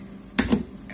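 Plastic clips on an HTC One M8 phone housing being pried loose, heard as two quick close snaps in rapid succession.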